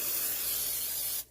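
A short, steady hiss of cooking spray coats a waffle maker between batches of banana waffles, close and loud, cutting off abruptly after about a second.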